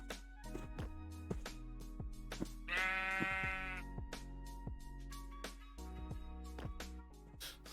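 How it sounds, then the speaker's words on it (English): Sheep bleating in the video game Minecraft: a single drawn-out, wavering bleat rises over a busy stream of soft clicks and thuds from blocks and footsteps, with no talking. "the sheep are just like falling through."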